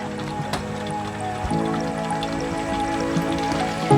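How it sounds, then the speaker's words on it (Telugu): Water gushes steadily out of a homemade pump for a farm borewell, a constant close splashing flow over a low mechanical hum. "ఇట్లా వాటర్ బయటకు వస్తే మాత్రం మస్తు అనిపిస్తుంది"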